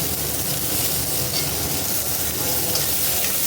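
Chopped tomatoes sauté in a pan with a loud, continuous close-up sizzle and hiss that stays even and steady throughout, no voices.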